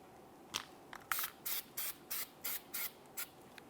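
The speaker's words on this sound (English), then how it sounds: "Let's use some parts cleaner on the area." Parts cleaner sprays onto the rear drum brake area of a 2002-2006 Honda CR-V in a series of short, sharp hissing bursts, close and fairly quiet, in an even rhythm.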